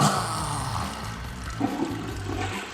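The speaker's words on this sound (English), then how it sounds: "We're here to flush it" A toilet flushes with a loud rushing roar of water that carries steadily through the whole moment, close and alone with no one speaking.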